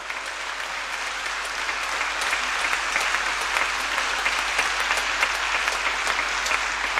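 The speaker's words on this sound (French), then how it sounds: "Acclamons le Seigneur très fort." A church congregation applauds together at Sunday Mass, a steady dense wash of clapping held at full strength for about seven seconds with no voices over it.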